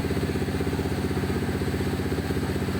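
Pit bike engine after ECU tuning, running in a rapid pulsing rhythm, a steady mid-pitched throb with mechanical clatter, moderately close and unbroken.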